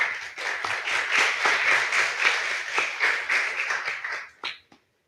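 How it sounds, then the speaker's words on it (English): An audience gives a workshop group of kids a round of clapping, steady and fairly close, lasting about four seconds before it fades out with a few last claps. "So, round of applause to them."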